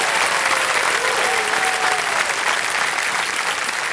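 On the set of Kaun Banega Crorepati, a studio audience claps for the contestants in a full, sustained burst of applause, with a faint voice or tone drifting beneath the steady crowd noise.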